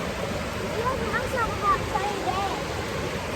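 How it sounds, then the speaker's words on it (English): A river flows beside a tent campground in a park, giving a steady, close rushing wash of water that carries on throughout, with faint voices mixed in. "This is basically part of the park, this river."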